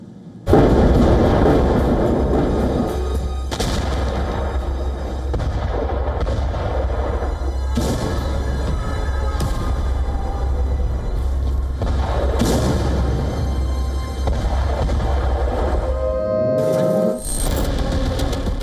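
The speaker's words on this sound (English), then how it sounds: "Just a series of explosions, one after another." Missile strikes in the war in Ukraine land as a series of heavy explosions, one after another. Loud booms and broad blasts are spread over a continuous low rumble, with sharp, distinct impacts recurring across the scene.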